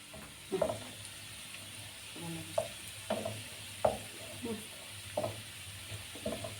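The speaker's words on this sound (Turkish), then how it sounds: "Soğanımız kıpkırmızı kızardı canlar." Onions fry in a pan, giving a faint, steady sizzle with periodic soft scraping and stirring knocks spaced a second or so apart.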